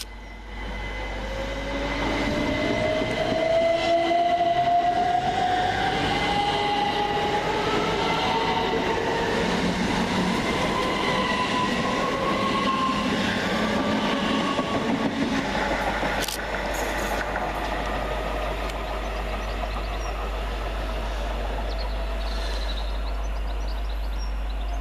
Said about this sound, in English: Next to depart the station, 377203 and 377211, working the 1024 Southern Railway service